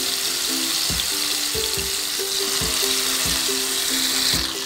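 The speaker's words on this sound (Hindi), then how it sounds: "अब हम इसमें से चिकन के 1-1 पीस लेंगे और हम इसमें फ्राई करेंगे" Chicken pieces fry in hot oil in a pan with a loud, dense sizzle and hiss running throughout, punctuated by about six soft low knocks, and no one speaks.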